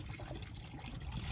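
Water pushed from a hand pump for bathing runs in a continuous faint gurgling trickle, with no voices.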